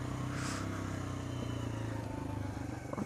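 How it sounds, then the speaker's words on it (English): A rental motorbike engine run flat out at about 55 mph, a steady continuous drone with wind roar throughout, loud and close with no break in the note. "Just rinsing everything out of the engine to get it up to 55 miles an hour flat out."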